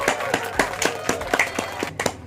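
Scattered hand clapping from a small group, about a dozen sharp distinct claps in an uneven rhythm, fairly faint with light room noise between.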